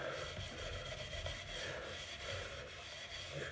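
Scrubbing of wood coated with chemical paint stripper on a small bookcase, a steady, close rasping rub that continues without pause and with no talk.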